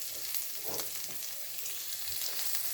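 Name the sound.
garlic and onion sautéing in hot oil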